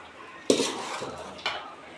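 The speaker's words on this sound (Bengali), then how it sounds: "এখন নেড়ে দেব" A spoon scrapes and clinks against a pot of mutton biryani during stirring, two distinct metallic strokes about a second apart over a quiet background, close and fairly clear.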